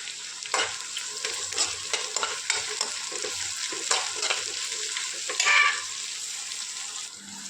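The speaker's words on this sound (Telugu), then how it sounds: "ఆవాలు, జీలకర్ర, పచ్చిమిరపకాయలు, ఉల్లిపాయలు అన్నీ బాగా వేగిన తర్వాత కొంచెం కొత్తిమీర కూడా వేసుకోవాలి" Mustard seeds, cumin, green chillies and onions fry in hot oil with a steady close sizzle, broken by occasional stirring scrapes and a brief louder burst near the end, with no voices.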